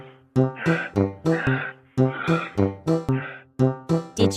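A kangaroo calling in a series of about a dozen short, loud, tonal bursts, each rising and fading in a steady rhythm, close and alone.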